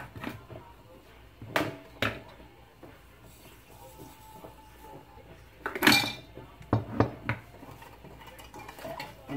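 A spoon knocks and scrapes against a bowl while sweet potato pudding batter is mixed with sugar, a few sharp clinks spaced out over quiet, then a quicker flurry of taps near the end.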